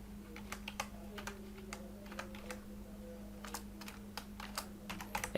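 Steady typing on a computer keyboard while HTML list items are entered, with quick, uneven key clicks close by over a low, constant hum, and a louder key press at the very end.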